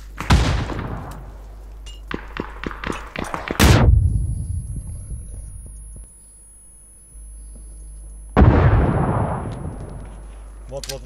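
Explosions and gunfire in the PUBG video game, several sharp bangs early then a big blast near four seconds and another heavy boom later, with a voice talking at times.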